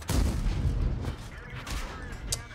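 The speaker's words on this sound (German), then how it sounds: "Jetzt kann ich anfangen hier zu schießen." A heavy WZ-120 tank cannon fires in World of Tanks with a deep, booming blast at the start that rumbles and decays under continuing battle noise, and someone speaks briefly.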